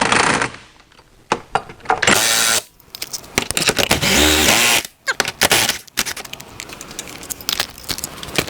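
Power tool driving the four main bolts into a salvage-rebuilt Porsche Taycan, short loud whirring bursts with gaps, a sustained run in the middle, and rattling, clinking handling noises between.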